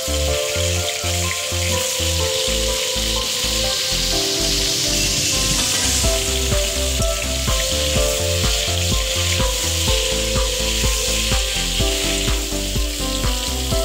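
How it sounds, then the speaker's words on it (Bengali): Cut potatoes slide into hot oil left from frying cauliflower, for a Bengali duck egg and cauliflower dish, and set off a loud, steady, close sizzle that runs the whole time over a low pulsing background. "এখন ওই তেলে আমি ছেড়ে দিব কেটে রাখা আলু।"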